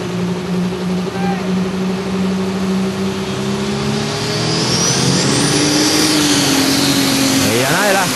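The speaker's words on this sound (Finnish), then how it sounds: "näin siellä Johanna lähtee hakemaan Doriksensa lisää kierroksia" A pulling tractor named Doris, driven by Johanna Herlevi, revs its engine before launching at the 2005 Kalajoki tractor pulling event in Finland. The loud, steady roar climbs in pitch and swells as revs build, with a commentator talking over it.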